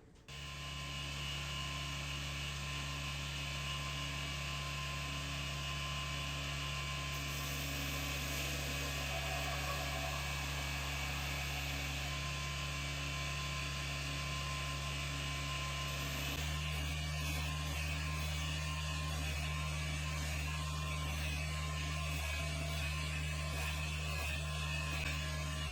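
A belt grinder runs steadily, loud and close, as it strips mill scale from a hardened Cutco Puma knife blade during a vintage restoration. The tone shifts partway through as the blade contacts the belt.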